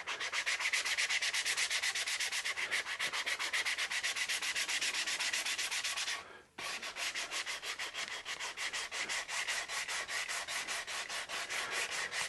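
Steady, close rhythmic sanding of a guitar body being prepared for finish, scratchy strokes repeating in a quick even pulse, with a brief pause near the middle before the rubbing resumes.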